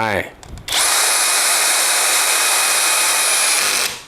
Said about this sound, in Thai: ผมจะเริ่มจากเบอร์3ด้วยสกูขนาด3นิ้วนะครับ ลองไขดู